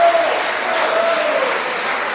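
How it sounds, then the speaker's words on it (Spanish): Dense, sustained applause from a church congregation in Fort Lauderdale during an evangelical sermon, loud and even with no break, a faint tone running beneath it. "Dale un aplauso al Señor Jesucristo"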